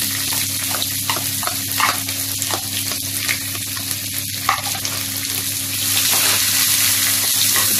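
Onions frying in oil in a pan on raised flame while making stuffed brinjal masala curry (badanekayi ennegayi), a steady close sizzle with occasional stirring scrapes, no talking.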